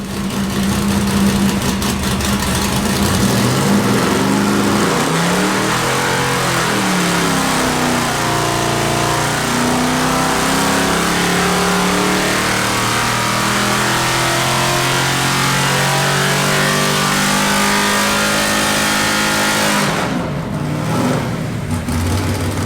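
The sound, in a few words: big block LS6 454 engine revving on dyno with air cleaner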